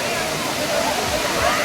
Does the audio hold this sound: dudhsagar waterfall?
yes